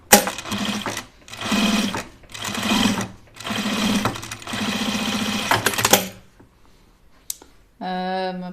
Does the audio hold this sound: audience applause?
no